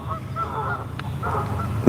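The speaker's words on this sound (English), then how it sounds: "So those geese are over there wanting to chime in." Geese honk near a fishing spot, sounding as a few bursts of nasal honking calls at moderate distance, with a brief pause between groups and one sharp click near the end.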